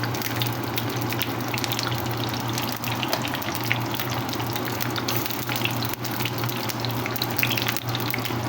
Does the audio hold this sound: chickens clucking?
no